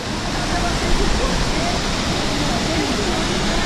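A waterfall pours steadily beside a large swallowing rock formation in Trindade, Rio de Janeiro, a loud, dense broadband roar that stays constant and close throughout, with no break in the rushing water.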